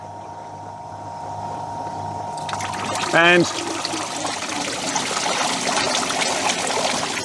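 Water from an evaporative air conditioner's pump starts flowing and rises into a steady splashing trickle as it falls in a curtain over the cooling pads, close and continuous, following a mechanical hum and a brief rising squeak, with a voice speaking briefly.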